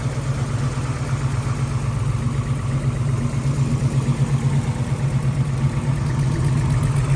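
A 383 stroker V8 engine in a 1983 Chevrolet Monte Carlo idles steadily with a deep, lumpy low rumble, close by and continuous, with no voices.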